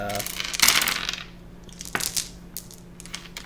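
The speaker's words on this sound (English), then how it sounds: "I've got 50 dice that I put into it right now" A handful of dice poured into a roomy custom dice bag, a sharp rattling clatter at the start followed by a few smaller clicks and settling knocks, close and clear with no talking.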